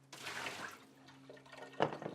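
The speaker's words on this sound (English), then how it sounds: "You dump the water out of the canisters." Water is dumped from the filter canisters of a GrowoniX EX-400 water filter, a brief close splash and trickle with a few drips, ending in a sharper final splash.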